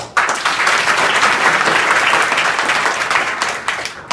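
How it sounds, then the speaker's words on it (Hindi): Students at a college event burst into loud, close applause, a dense clapping roar that starts abruptly, holds steady for several seconds and then breaks off. "और ताली बजाओ।"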